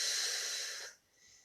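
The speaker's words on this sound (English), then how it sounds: "breathe in through the belly and exhale" A strong, breathy exhale through the nose or mouth during a home yoga session, loud and close, tapering off after about a second into a faint trailing breath, with no talk.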